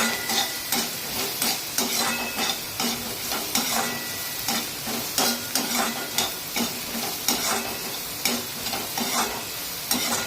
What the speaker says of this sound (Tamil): இந்த குடமிளகாயும் கத்திரிக்காயும் போட்டு வதக்கணும்